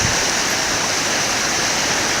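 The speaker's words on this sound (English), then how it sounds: "Yeah, that water's moving, dude." Fast-moving wild river water rushes in a steady, loud, broadband roar close by, with no voices and no breaks.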